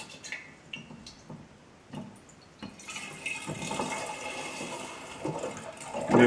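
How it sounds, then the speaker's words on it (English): Fruit juice is poured roughly into a jar for homebrew fruit wine, starting with scattered clinks and drips, then a splashing, gurgling stream of liquid filling the container, moderately close. "I pour it very rough to aerate it"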